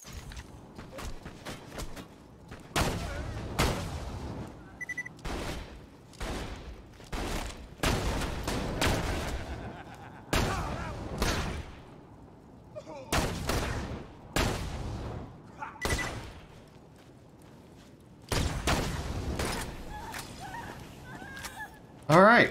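Rifle shots in the shooter game Borderlands 2, a series of loud, sharp, separated blasts with decaying tails spread across the clip at irregular intervals, some in quick pairs.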